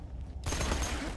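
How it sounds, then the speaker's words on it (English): A fiery SMG in the video game Borderlands 2 opens up suddenly in a dense, loud burst of rapid automatic fire that continues to the end. "we've got this SMG. It's an SMG of Fiery Death."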